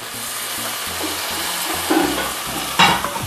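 Tomato puree stirred in a frying pan for mattar paneer, with a steady sizzle, rhythmic scraping strokes and a couple of sharper clatters near the end, close and fairly loud.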